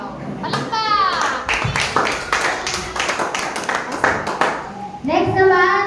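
Scattered hand claps ring out at a children's graduation day, sharp and uneven, alongside a voice and an adult speaking over them.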